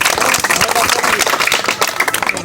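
Hand claps ring out in a quick rhythmic burst, near and loud, mixed with voices and general chatter throughout.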